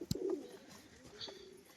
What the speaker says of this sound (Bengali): মুর্শিদাবাদের পায়রা এটা